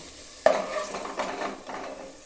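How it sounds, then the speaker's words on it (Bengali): Potatoes fried red being lifted out of the pan for a mutton curry: a sharp scrape of the utensil, then a few softer stirring scrapes over a light sizzle of oil. "দেখুন আলু আমার লাল লাল করে ভাজা হয়ে গেছে"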